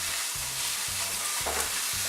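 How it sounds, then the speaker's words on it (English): Onion sizzles steadily in a frying pan, a close, even crackle and hiss that carries on without a break and with no talking. "that's started to sizzle, so I'll put the rest of the onion into the pan"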